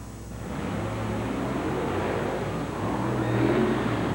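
A Bigfoot Ford monster truck makes a 1991 qualifying run. Its engine gives a loud, continuous roar that swells slightly toward the end.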